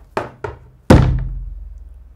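Huge Acer Predator 21 X laptop power brick handled and set down: two light knocks, then a heavy thunk with a short resonant tail, close and alone.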